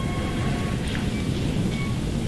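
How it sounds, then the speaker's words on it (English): Video game rain inside a flooded mine, a dense, continuous hiss and patter with low rumble underneath, steady and fairly loud with no talk. "It's still raining in here, which it should be."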